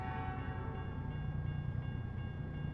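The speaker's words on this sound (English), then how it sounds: "There's a 5 a.m. train coming through." A train rumbles past in the American Truck Simulator game, a steady low rolling drone with sustained tonal horn-like notes at a moderate, even level.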